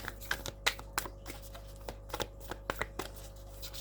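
Tarot cards being shuffled during a pre-shuffle, a run of close, sharp riffling snaps and soft flicks over a low steady hum, no voice.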